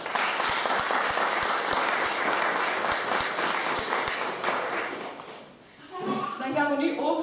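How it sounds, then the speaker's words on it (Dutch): An audience applauds at a Red Cross diploma ceremony. The dense clapping stays steady for about five seconds, then fades out, and a voice starts speaking. "wil ik graag nog een laatste applaus vragen"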